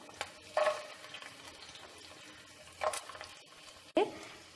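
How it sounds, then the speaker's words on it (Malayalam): Garlic tossed into a hot pan, a soft sizzle running under occasional scraping stirs and a few sharp clinks of the spatula against the pan, close and with no voices. "ഇനി ഇതിലേക്ക് വെളുത്തുള്ളി ഇട്ട് കൊടുക്കാം."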